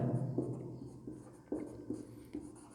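Chalk marks on a board during a Class 10 maths lesson on polynomials, several soft scraping strokes and taps spread unevenly over a faint low room hum.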